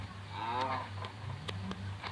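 A cow moos in the Minecraft video game, a drawn-out low bellowing call, followed by a few short clicks and game sounds over a steady background hum.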